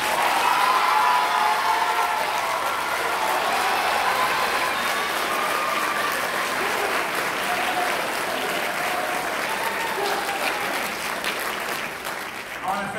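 The audience at a high school symphonic band spring concert gives a sustained round of applause, many hands clapping steadily and fairly loudly for several seconds, with faint crowd murmur beneath and the clapping tapering off at the end.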